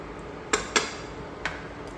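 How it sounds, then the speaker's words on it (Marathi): Spoon stirring ridge gourd curry in a pan, with three sharp clinks against the pan spread over a quiet background. "छान असं हलवून घेते."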